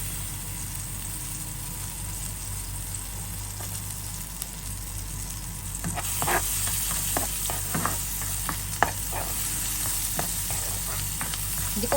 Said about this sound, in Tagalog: Una, igigisa po natin siya, guys. Lagay natin yung bawang.